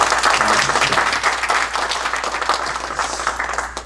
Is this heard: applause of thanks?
yes